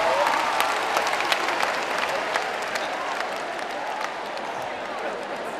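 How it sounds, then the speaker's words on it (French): An audience bursts into sustained applause at a French stage comedy show, dense clapping holding steady throughout, up close and loud. "On peut s'applaudir un peu?"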